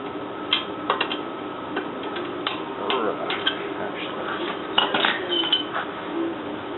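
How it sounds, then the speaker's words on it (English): A wrench tightens a nut on the front suspension control arm of an Acura Integra, giving repeated light metallic clicks and clinks close by over a steady background hum. "just take your normal wrench and crank it until it clears the hole"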